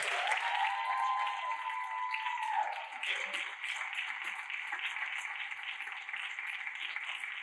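An audience at a school TED-Ed night claps for the presenters as they come out on stage. The clapping is soft and distant, a steady wash that continues to the end.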